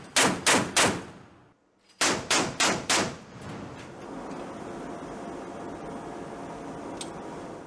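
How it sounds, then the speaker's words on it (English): An M242 Bushmaster chain gun on a turret aboard a US Navy ship fires two loud bursts of about four heavy shots each, separated by a brief silence, followed by a steady rumbling wash of noise. "It consists of an M242 Bushmaster chain gun mounted on a turret"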